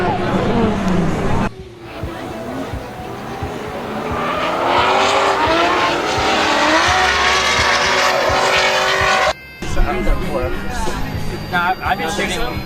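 Formula D drift cars at Lone Star Drift sliding through a tandem run with engines roaring and tires squealing continuously, a dense loud wash of motor noise that cuts out briefly, with crowd babble and talk in the background.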